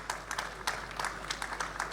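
An audience applauds at a metro and rail panel discussion, a faint, uneven patter of scattered clapping heard from a distance.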